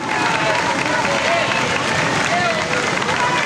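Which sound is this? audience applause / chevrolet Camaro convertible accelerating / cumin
audience applause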